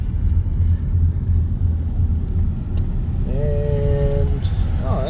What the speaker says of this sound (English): Still got trucks coming in